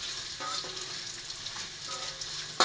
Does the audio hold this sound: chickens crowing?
no